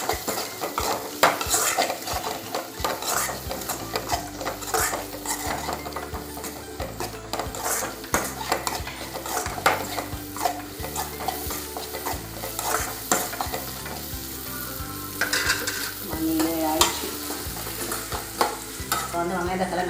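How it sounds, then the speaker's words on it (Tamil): Onion and tomato sautéing with turmeric in a pan, with steady scraping stirring strokes and a soft sizzle running throughout over a continuous rhythmic background, no voices. "மஞ்சள் சேர்த்துட்டு நல்லா வதக்கி விட்டுடலாம்."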